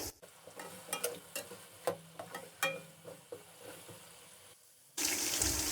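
Potato pieces fry lightly in a pan for chicken degi biryani, with a soft sizzle and intermittent stirring scrapes, then a sudden louder, steady rush of noise at the end.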